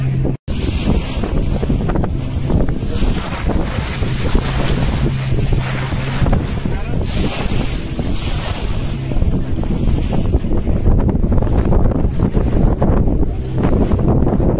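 A boat rides the open sea off Shiroda Velagar beach amid loud, constant wind buffeting and the wash of waves against the hull.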